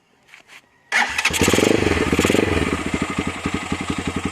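A motorcycle engine with a 28 mm carburetor cranks and catches, then settles into a loud, rhythmic idle, after a couple of brief faint sounds at the start.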